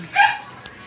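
A single short, high bark or yip from a dog, brief and fairly close, with nothing else around it.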